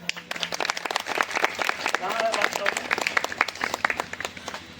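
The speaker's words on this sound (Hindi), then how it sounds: "आप सबके अच्छा लगल हुई तो एक बार हंस के ताली बजा दे।" An audience claps at a bhajan devotional singing event, a dense burst of hand claps with crowd voices mixed in throughout.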